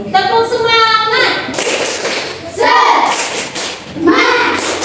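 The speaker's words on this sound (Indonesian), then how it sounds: "Tepuk semangat." Group of schoolchildren doing a rhythmic class spirit clap, bursts of patterned claps and thumps separated by chanting voices, near and loud in a classroom.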